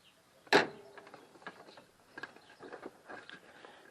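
A pulley and wrench come off a Mitsubishi L200 Triton engine during timing work, with one sharp metallic clank followed by softer scattered clicks and taps of metal parts.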